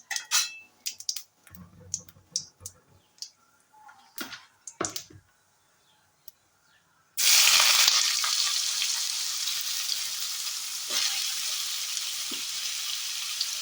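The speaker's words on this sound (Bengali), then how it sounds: "এবার এই গরম অবস্থায় আমি এবারে লাউটা, যেটা আমি জল ঝরিয়ে কেটে জল ঝরিয়ে রেখেছি, সেই লাউটা এখানে দিয়ে দেবো।" Finely cut, drained bottle gourd drops into hot oil in a pan with a sudden loud burst of sizzling that settles into a steady, close frying hiss, after earlier scattered clinks of utensils and pans.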